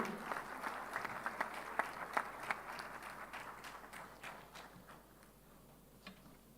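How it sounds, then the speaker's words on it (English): Applause at the Manthan Def Expo 2022 after the Raksha Mantri's presidential address, heard quietly and from a distance, with scattered distinct claps that thin out and fade toward the end. "Can we have a round of applause again?"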